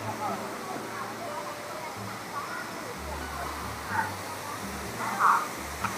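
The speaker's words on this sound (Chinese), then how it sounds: "睡觉听着瀑布声，那挺潮的" Falling water roars steadily at a waterfall in Red Stone Gorge, Yuntai Mountain, a broad continuous wash with a few brief voices and small sounds rising over it now and then.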